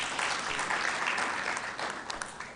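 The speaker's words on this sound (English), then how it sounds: "A round of applause for him one more time." Steady applause from an audience at the opening ceremony of the 19th ARIPO session, broadband clapping sustained across the whole stretch at moderate level with no talk over it.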